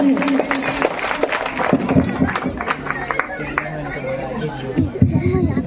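Applause from an audience at a district-level competition exam result ceremony as a medal recipient comes up, steady clapping mixed with crowd chatter and a voice over it throughout.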